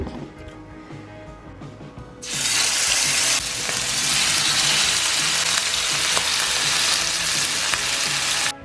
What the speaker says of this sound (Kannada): ನಮ್ಮ ಮಮ್ಮಿ ಫಿಶ್ ಫ್ರೈ ಕೂಡ ರೆಡಿ ಆಗ್ತಾ ಇದೆ